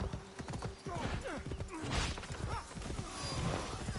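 Horse hooves clip-clop at a steady pace in Assassin's Creed Shadows, close and continuous, with an occasional whinny and faint voices in the background.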